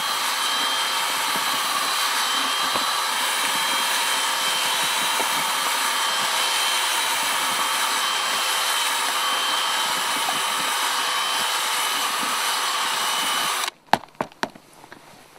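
A power drill mixing carp bait runs steadily and loud for about fourteen seconds, a continuous whirring drone, then cuts off, followed by a few sharp knocks.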